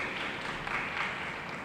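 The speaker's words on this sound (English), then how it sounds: "Give him a round of applause." Audience at an inter-secondary school debate applauds, a soft dense wash of many hands clapping at once, steady and fairly distant throughout.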